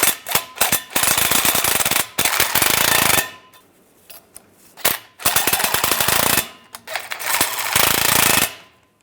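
Several loud, close bursts from a power tool snugging down the bolts on the driver's side differential bracket of a 2007-2013 Chevrolet Silverado, with short pauses between rattling impact runs.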